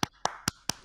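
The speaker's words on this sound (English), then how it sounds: "Is that clapping?" Clapping in a video game: four crisp, evenly spaced claps in under a second, close and dry with brief ringing tails, no voices.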